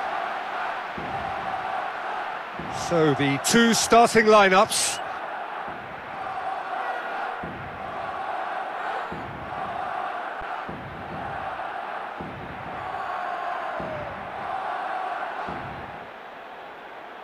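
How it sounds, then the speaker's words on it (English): Stadium crowd noise from the PES football video game on PSP fills the scene as a steady roar with a louder cheering burst early on, while a commentator talks over it throughout. "The crowd wait to offer them a red-hot welcome"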